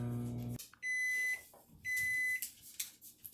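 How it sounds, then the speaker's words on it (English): A microwave oven beeps when finished cooking, two clear high-pitched tones close by with quiet household background. "that was the microwave just going off"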